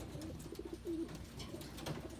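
Pigeons coo softly in a racing pigeon loft, with a low, repeated throaty cooing from the birds that carries steadily through the short stretch amid faint loft background noise.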